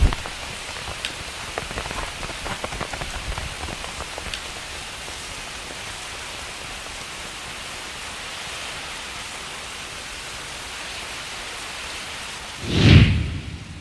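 Heavy rain pours steadily at night outside a large walled family courtyard, a constant hiss without a break, with a louder rumbling burst near the end.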